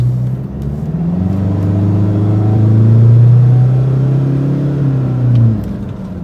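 A Toyota N80 Hilux with a 3-inch exhaust and muffler accelerates around a bend, its mid-pitched engine drone rising and swelling loudly before easing off, close and steady with no talking.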